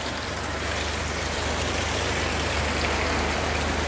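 Steady, dense hiss of rain falling without a break, with a low rumble underneath and no voices.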